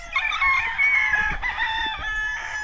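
Kelso and Jerry Jenkins gamefowl roosters crowing close by, one loud drawn-out cock-a-doodle-doo with overlapping crows and faint clucking beneath.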